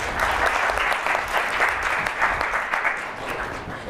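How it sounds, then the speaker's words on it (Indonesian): An audience at a motivational talk applauds steadily, a full, even patter of many hands clapping for several seconds in a large room. "kasih tepuk tangan buat teman-teman kita."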